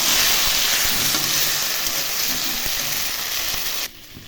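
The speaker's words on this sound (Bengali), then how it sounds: "এখন আলু দিয়ে দিলাম, ভাজা আলুগুলো দিয়ে দিলাম। এখন একটু নাড়াচাড়া করবো" Fried potatoes stirred into cooked spice masala in a pan make a loud, close, dense sizzle with scraping stirs that drops off abruptly near the end.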